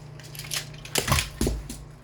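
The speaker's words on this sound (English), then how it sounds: "That's the sound of Optimus falling from my hand onto the ground" A small hard plastic Transformers toy figure drops from a hand and clatters onto the floor, with a few light knocks and rattles as it settles, close by over a low background hum.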